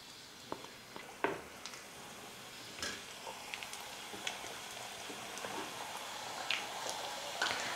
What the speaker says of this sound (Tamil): இந்த மாவை ஒவ்வொன்றா எடுத்து எண்ணெயில் போட்டுக்கலாம்